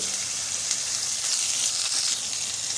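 Curry leaves sizzle and crackle in hot oil during tempering, with asafoetida and grated ginger in the pan; a steady, close, bright frying hiss holds throughout, with no voices.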